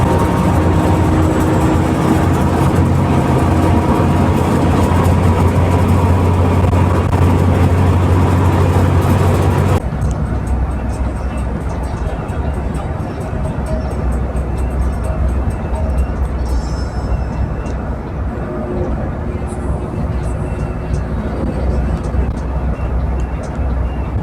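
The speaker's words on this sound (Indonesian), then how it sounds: "bus mesin belakang dinilai jauh lebih senyap dan lebih adem daripada mesin depan" Inside a bus passenger cabin, a low, steady engine drone hums continuously, louder at first and then noticeably quieter after an abrupt shift, as a voice talks over it.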